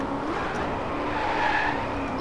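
A Maserati drives hard and skids in a racing video game, its engine roaring steadily while tires squeal over a continuous loud rush, with no voices.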